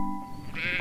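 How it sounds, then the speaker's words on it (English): A goat gives a short, close bleat, a single wavering cry lasting under a second. "Goats makes the sound bleat."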